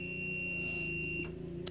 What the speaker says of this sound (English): you're just going to hear a lot of beeping and whatnot in the background